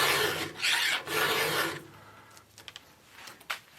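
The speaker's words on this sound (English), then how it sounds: "I continue filing just to match the length to the other teeth." A hand file rasps back and forth across a chainsaw tooth, its length being matched to the other teeth, in three strong, close strokes followed by softer scraping and light ticks.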